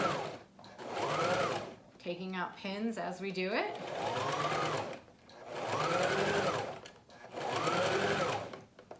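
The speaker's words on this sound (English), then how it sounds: "So that's like the teeth of the sewing machine." Sewing machine stitching fabric in bursts with a whirring, rising-and-falling hum, close by, while a person speaks briefly between runs.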